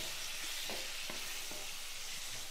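Onion and tomato sizzle quietly in a nonstick kadai, with a continuous hiss of frying broken by four or five soft scrapes and taps of stirring, and no speech.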